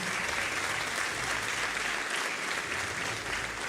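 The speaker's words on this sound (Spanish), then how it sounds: "un aplauso para el hermano pueblo colombiano" Sustained applause from a large audience at a new mayor's inaugural speech in Quito, a dense, even roar of clapping that holds steady throughout at a fairly distant, moderate level.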